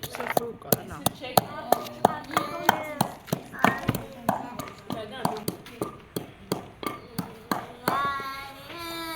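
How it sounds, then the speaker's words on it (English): Utazi leaves are cut with quick, repeated chopping taps in a steady rhythm, set against ongoing talk and other voices nearby. "And then I'll cut my utazi leaf."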